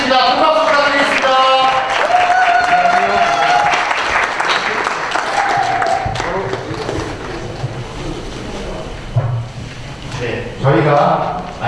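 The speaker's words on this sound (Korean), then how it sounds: "큰 박수 부탁드리겠습니다." Guests at a merchants' association president inauguration ceremony in Wangsimni, Seoul, applaud under loud music and speech from a sound system, with the clapping fading as the music continues.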